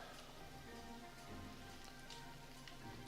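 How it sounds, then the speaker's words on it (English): Steady rain in the fantasy video game Outward, a dense, even patter of drops on surfaces continuing throughout, soft and distant, with no voices. "I love it when it's raining."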